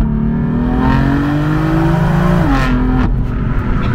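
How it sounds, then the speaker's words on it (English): A BMW M4 F82 accelerates hard in a first gear pull, its engine note rising loud and continuous inside the car, then briefly dropping near the shift around three seconds. "let's do a first gear pull right here"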